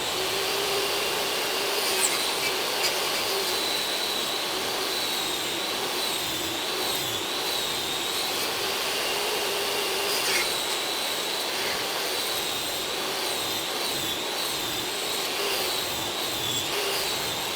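A router cuts a dado channel in cabinet wood, giving a continuous high-pitched motor whine with grinding cutting noise that holds steady and loud for the whole stretch, no talking.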